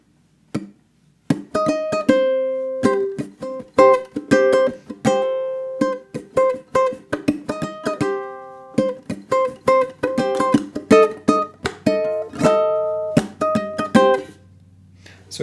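A ukulele plays the theme in a funk-strum style, with crisp plucked notes and quick chordal strums in a lively, steady rhythm, played close and alone with no voices.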